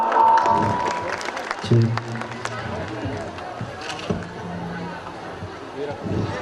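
A crowd at a school poetry recital claps in steady, continuous applause welcoming poets, with a few brief tonal sounds and murmurs mixed in.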